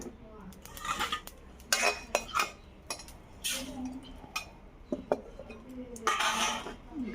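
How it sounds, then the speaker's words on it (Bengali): Cumin seeds dry roasting in a hot kadai for a mango pickle, stirred with a metal spoon that scrapes and clinks against the pan in repeated bursts, close and moderately loud. "জিরাটা ভেজে নেব"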